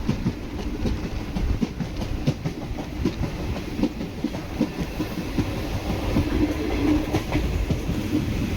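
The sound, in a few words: Chennai Egmore Express train running, Kollam to Chennai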